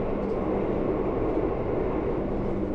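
Steady, close rumble of a train running on rails during a long morning rail journey in Indonesia, a continuous dense roar with a low hum and no talking.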